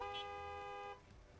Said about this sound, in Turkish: korna çalıyorlar.